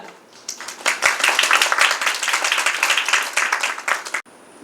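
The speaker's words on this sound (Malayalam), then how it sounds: "തീർച്ചയായിട്ടും സാറിന് നല്ല ഒരു കയ്യടി നിങ്ങൾ കൊടുക്കണം നിങ്ങളുടെ പ്രിൻസിപ്പളിന്." Audience applause for a college principal at an anti-drug awareness event, a dense burst of many hands clapping that runs about four seconds, close and steady, then stops sharply.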